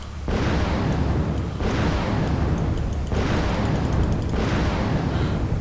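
Missiles from a MechWarrior Online mech pound an Atlas mech in a series of four heavy explosive bursts, each a loud broadband roar that swells and decays before the next one lands.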